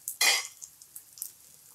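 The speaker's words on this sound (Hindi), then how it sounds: "तो ऐसे हम स्पैचुला पे उठाएंगे और धीरे से इसे फ्लिप कर लेंगे।" A spatula flips a cauliflower paratha on a hot pan, a quick scrape and a soft slap followed by faint, light sizzling ticks, close and quiet.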